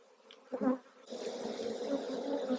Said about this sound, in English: Look at that. Absolutely full of bees.